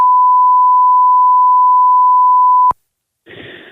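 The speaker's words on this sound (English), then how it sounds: "We're going to have a lot of questions about this phone call because there were so many beeps." A single long censor beep, a pure steady tone about two and a half seconds long, plays loud over a phone call and cuts off abruptly. Faint muffled talk follows after a brief silence.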